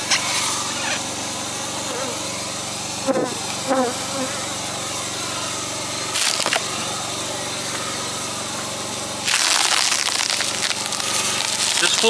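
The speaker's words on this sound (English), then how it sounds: "Full of bees" Honey bees in an open hive during feeding with sugar syrup give a dense, steady buzzing drone. A few louder, closer swells and some handling noise rise over the hum, and no one speaks.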